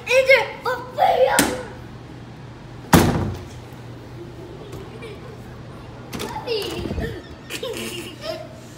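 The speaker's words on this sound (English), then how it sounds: "Shut the door. Shut the door." A door is shut hard once around the three-second mark, making a sharp close thud, amid a home with children playing, laughing and talking nearby and a second softer door knock later.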